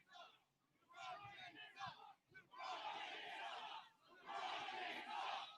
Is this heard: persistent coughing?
no